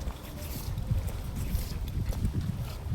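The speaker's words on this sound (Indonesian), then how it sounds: "Apalagi anginnya tuh kayak nggak bersahabat loh. Ngeri kali anginnya." Strong, cold wind outdoors beside a dormitory building roars and buffets the microphone in a low, gusty rumble that stays loud and close for the whole stretch.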